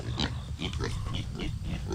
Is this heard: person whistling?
no